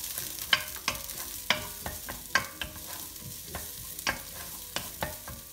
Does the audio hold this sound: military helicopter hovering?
no